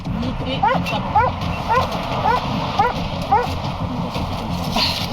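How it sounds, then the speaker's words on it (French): A police sniffer dog barks repeatedly in short sharp bursts, about six barks spread evenly over a few seconds, against a busy background of voices and noise, during a search at a Belgian road checkpoint. "Le chien de la brigade canine entre en action et quand il aboie, c'est qu'il trouve."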